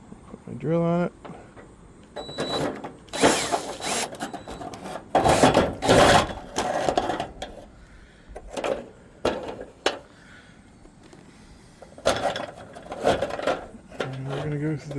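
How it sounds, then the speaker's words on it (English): Bursts of a power drill whirring and driving gutter screws through a gutter into a wall, several short runs with pauses between, up close, with brief speech in between. "Put my drill on it."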